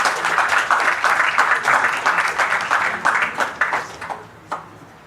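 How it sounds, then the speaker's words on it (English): An audience at an AI industry conference panel applauds the panelists, a full burst of clapping that thins out toward the end, leaving a few scattered last claps. "Big round of applause, please."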